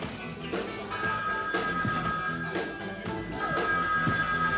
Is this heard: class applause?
no